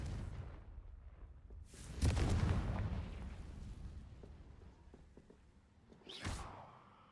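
A fiery spell blast in a magic school video game, a deep booming explosion around the middle with a rumbling tail, followed by a shorter burst near the end over a low ambient rumble.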